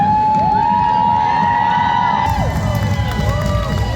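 A convention crowd cheers and whoops for a cosplay contest winner at an anime event, a loud continuous roar of voices with shouts rising over it throughout.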